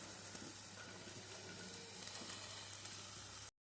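Coconut pieces frying in a pan with ridge gourd pieces, giving a soft, steady sizzle with faint stirring that stays low and even, then stops abruptly.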